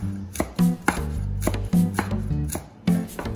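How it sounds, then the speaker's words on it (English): Six medium-sized long beans are chopped on a cutting board with a knife, giving a quick, close series of solid thuds in an uneven rhythm, with no voice over them. "Then chop up 6 medium-sized long beans."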